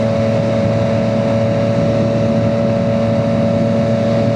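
Yamaha MT-09 motorcycle engine running steadily while riding, a loud, continuous low drone with strong steady harmonics and no pauses, close and unbroken throughout.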